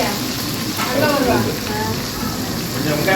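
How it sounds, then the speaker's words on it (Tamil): Onions fry in a pan with a loud, dense, continuous sizzle and crackle like rain on a surface, with faint stirring throughout. "அதாவது வெங்காயம் போட்டுருவோம்"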